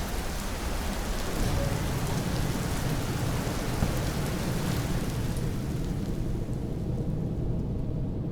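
Steady heavy rain in the Empyrion game world, a dense continuous hiss and patter of drops with a low rumble underneath, constant and loud throughout with no talking.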